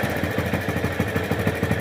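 A motorcycle engine idles nearby with a steady, even chugging pulse before it is parked, running loud and alone without talk.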